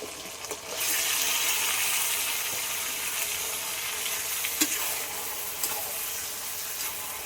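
Spiced oil sizzles steadily in a pan after meat is added, a loud continuous frying hiss with faint scrapes and small pops.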